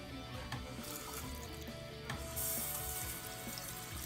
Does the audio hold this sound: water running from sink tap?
yes